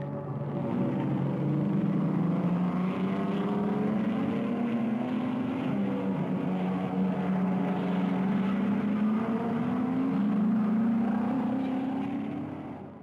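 Race cars at the 1955 24 Hours of Le Mans, a continuous droning engine roar with a wavering pitch that rises and falls as cars pass, steady and moderately loud throughout.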